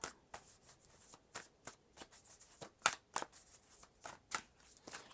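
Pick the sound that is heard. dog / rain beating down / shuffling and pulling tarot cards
shuffling and pulling tarot cards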